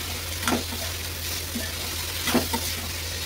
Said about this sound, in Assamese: এয়া ভাজিখন এতিয়া লৰাই দিম